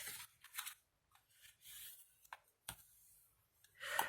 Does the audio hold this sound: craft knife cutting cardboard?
yes